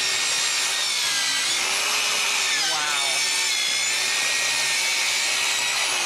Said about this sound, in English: I'm going to do a plunge cut, go backwards, forwards, and we're going to just drop this thing right in